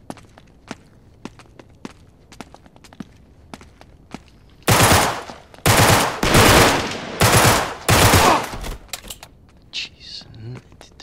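Sustained automatic gunfire from Uncharted 3, loud and close in four or five heavy bursts, preceded by a stretch of light scattered clicks and footsteps.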